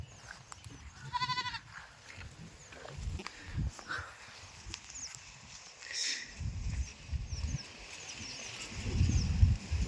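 A shepherd's flock of sheep bleats in an open field, one short wavering bleat standing out early, set over continuous trampling, shuffling and rustling of the moving animals.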